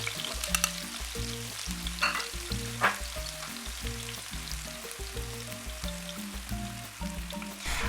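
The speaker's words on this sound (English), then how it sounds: "We stir fry some onion for some seconds." Onion stir-frying in a pan for a Nigerian-style beans and potatoes dish, a soft continuous sizzle with occasional scraping stirs, fairly quiet and steady with no speech over it.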